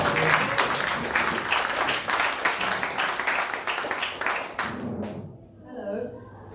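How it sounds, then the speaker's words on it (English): Warm, sustained applause from a book launch audience fills the room, dense and steady at close range before fading out, after which a voice begins to talk. "Round of applause for Erica."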